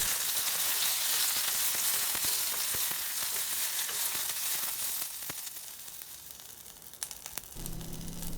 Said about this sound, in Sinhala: තෙල් රත් වෙනකොට කුරුඳු කෑල්ලක්, රම්පේ කරපිංචක් දාලා මේ විදිහට හොඳට ටෙම්පරාදු කරගන්නවා